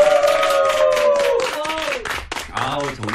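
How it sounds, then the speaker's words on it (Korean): Clapping from a Korean singing class at the end of a song lesson, mixed with strong sustained singing or speech-like tonal voices throughout, rhythmic claps under the voices. "박수"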